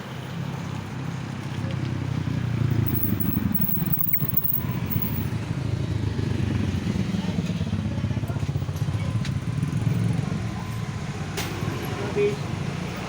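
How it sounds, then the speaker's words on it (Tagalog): A motorcycle engine idles with a steady low rumble close by throughout, mixed with outdoor background noise. "Ngayon pakarwas muna ng motor."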